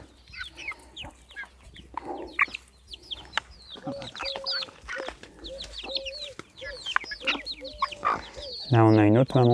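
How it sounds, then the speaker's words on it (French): A mother hen with her chicks clucks and peeps around a garden run, soft repeated clucks and chirps close by, with a person talking softly over them and a louder rising call near the end. "Là, on a une autre maman poule qui vient avec ses petits."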